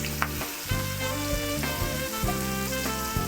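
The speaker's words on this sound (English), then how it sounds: "Once you start seeing the edges get a little brown, then you want to sear it and flip it over." Meat searing in a hot pan in a home fine-dining kitchen, a steady bright sizzle and crackle with a few louder spits and shifts as it is moved, close and continuous, while a low tonal hum runs underneath.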